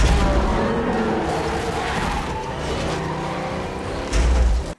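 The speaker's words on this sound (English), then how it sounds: "Oh, the car hit it." A car drives and crashes into something in a fantasy TV series scene. The engine rumbles steadily and loud throughout, with a heavy low thump of impact near the end.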